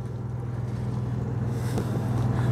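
Onan 5,500 watt generator with under 200 hours running on a 2005 GBM Luxura Class A motorhome, a steady low engine drone with constant hum, no speech.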